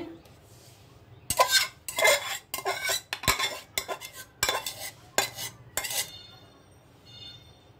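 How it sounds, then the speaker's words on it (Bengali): Pitha is poured and scraped from a cooking pot into a bowl: a close run of irregular metallic clinks and scrapes from utensil against pot, loud in bursts and then trailing off, with no talking. "এখন পিঠা পাতিলের বাটির ভিতরে ঢেলে দিব"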